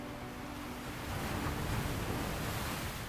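Ocean waves washing onto a sandy beach, a steady broadband surf roar that swells slightly midway, moderately loud with no voices.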